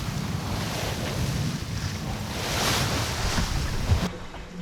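Sailboat making hull speed across the Bay of Biscay in 9 to 10 knots of wind, a continuous wash of water along the hull mixed with wind buffeting the microphone, steady and fairly loud before easing at the end.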